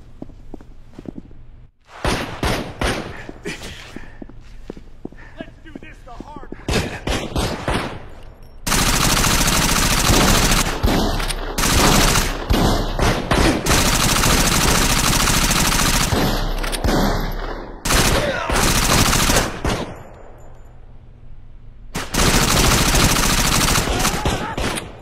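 Rapid video-game gunfire in Gangstar Vegas, with long bursts of automatic fire and loud repeated shots, broken by short gaps and footsteps between volleys.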